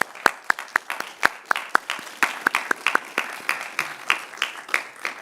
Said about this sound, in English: Just a quick round of applause for Christina and Chuck.